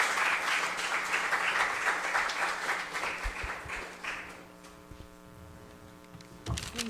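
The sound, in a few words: audience applause for a panelist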